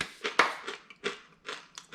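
Homemade air-fried tortilla chips crunch between teeth in a quick series of about eight sharp, close bites and crackles, fairly quiet with short pauses between them.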